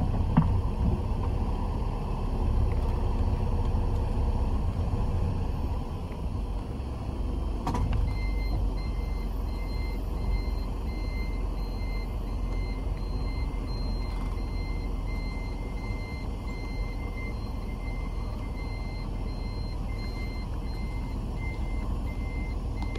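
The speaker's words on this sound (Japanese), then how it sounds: "バス一旦バックしますのでお気をつけください" A shuttle bus running between the DHC Akazawa Onsen Hotel and Izu-Kogen Station reverses, its engine rumbling steadily under a faint, regular backup beep that keeps repeating, with no one talking.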